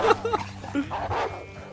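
Wolves in the Red Dead Redemption 2 video game, giving short yipping, whimpering canine cries in quick succession, moderately close and fairly faint.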